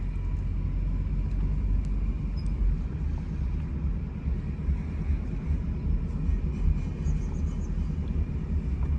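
A cheap, worn Toyota Camry without power steering drives along, giving a steady, loud, low road and engine rumble heard from inside the car.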